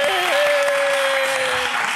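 An audience on a Latin talk show applauds loudly to welcome a musician and producer. The clapping is dense and steady, and a sustained musical tone plays under it.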